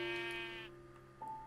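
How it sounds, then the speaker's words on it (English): A Minecraft sheep bleats as a wolf attacks it: a short, loud, nasal buzzing bleat that stops abruptly, then a brief higher tone, with no talk. "a wolf is killing a sheep, from the sound of it"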